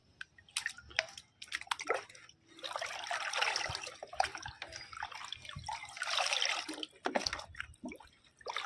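Papaya fertilizer ingredients are stirred into rice-washed water for plants, giving soft close splashes, drips and squishy sloshing in irregular bursts, fairly quiet with no talk.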